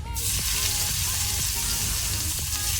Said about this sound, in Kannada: ಈಗ ಇದನ್ನು ಒಳ್ಳೆ ರೀತಿ ಫ್ರೈ ಮಾಡುವ. ಬೆಳ್ಳುಳ್ಳಿ ಮತ್ತು ಉದ್ದಿನ ಬೇಳೆ ಕೆಂಪಾಗಬೇಕು ಲೋ ಫ್ಲೇಮಲ್ಲಿ.